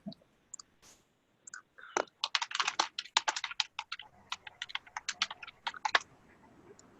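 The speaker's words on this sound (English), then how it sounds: "just making sure I'm typing everything else out while I'm doing this as well" Steady typing on a computer keyboard during a city redevelopment agency meeting roll call, with rapid clicking keystrokes in dense bursts after a few isolated taps, close and fairly clear with no talking.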